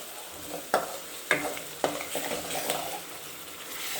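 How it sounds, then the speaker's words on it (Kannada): Chili powder and turmeric fry in oil for egg fried rice, with a soft steady sizzle and three sharp spatula knocks against the pan, then lighter scraping. "ಆಮೇಲೆ ಸ್ವಲ್ಪ ಅರಿಶಿನ ಹಾಕ್ಕೊಂಡು ಚೆನ್ನಾಗಿ ಫ್ರೈ ಮಾಡ್ಕೊಳ್ಳಿ."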